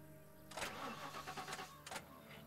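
A car engine starts in the video game The Last Stand Aftermath, a brief crank and catch followed by a steady idle hum, moderately loud and heard alone.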